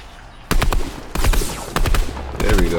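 Gunfire in the video game Fortnite comes as several loud bursts of rapid shots in quick succession, close and punchy, each burst followed by a brief pause.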